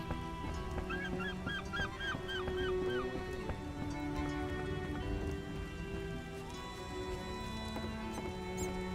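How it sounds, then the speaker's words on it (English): Video game rain from The Witcher hissing and pattering steadily throughout, with faint chirpy tones and a low rumble underneath. "Oh, when will this rain stop?"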